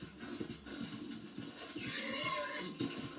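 A horse in the video game Red Dead Online whinnies with a rising, wavering neigh in the second half, heard up close over faint game ambience and soft hoof clops.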